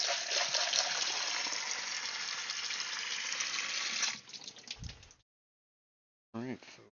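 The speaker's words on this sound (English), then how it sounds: "I'm gonna fill up the black worms with some water because your tank's getting a little low." Water pours steadily into a black worms' container for about four seconds, a bright continuous gush that thins into splashes before stopping, followed by a short silence and a brief voice.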